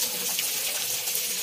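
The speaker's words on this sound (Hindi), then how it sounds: "मैं जाली को पानी से साफ़ कर लेता हूँ" Pressurised water sprays over an air cooler's honeycomb pad during cleaning at home, a loud, steady hissing gush close by with no pauses.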